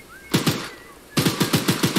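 Gunfire in the horror game Choo-Choo Charles: two quick loud shots, a short pause, then a rapid string of about six more evenly spaced shots, close and punchy.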